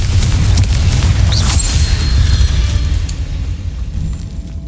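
A loud, booming blast from a Confringo spell in Hogwarts Legacy rolls out with a crackling burst and a sustained rumble, fading slowly toward the end.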